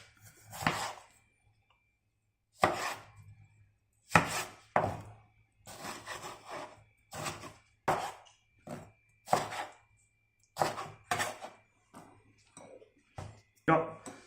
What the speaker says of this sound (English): Last one we need to chop is just tomato.